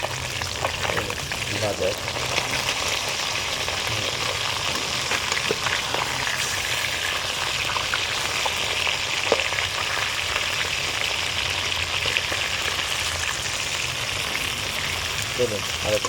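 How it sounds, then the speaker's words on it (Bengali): A fish fries in a pan and gets flipped over, giving a loud, constant crackling sizzle that runs throughout, with a voice speaking briefly over it. "চলুন বন্ধুরা, এবার মাছটা উল্টিয়ে দেবো"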